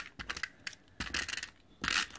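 Adhesive tape being pulled and pressed down onto paper on a handmade card, heard as three short bursts of crisp ripping and crinkling up close, separated by quiet gaps.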